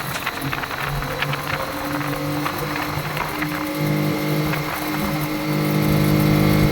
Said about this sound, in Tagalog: yung nagitik na ating pong naririnig ay talagang nagiging resulta dahil lang po sa kakulangan ng langis na umaahon po sa kanyang cylinder head